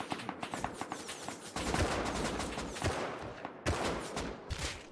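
AK rifle fire in the survival game Rust, rapid automatic bursts crackling in dense, loud volleys with short pauses between strings of shots, close and sustained.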